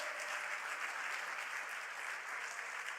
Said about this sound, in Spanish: ese aplauso debe ser más fuerte